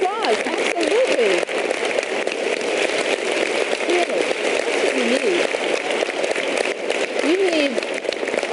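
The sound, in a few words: audience applause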